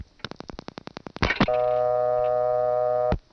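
A 1976 step-by-step telephone exchange in New Tripoli, Pennsylvania: a quick train of clicking pulses, a short burst of switching noise, then a steady humming dial tone held for nearly two seconds before cutting off.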